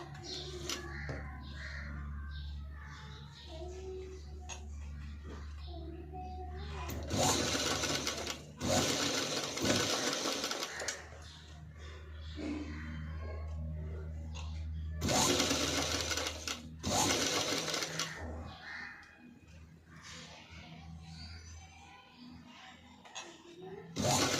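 A sewing machine stitches a padded blouse in loud rapid bursts of mechanical chatter, separated by quieter stretches of faint background noise and occasional distant bird calls.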